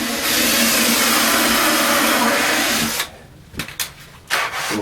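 A cordless drill drives steadily into scrap wood with a loud sustained whir for three seconds, then stops, leaving a few short rustling knocks and a brief restart at the end.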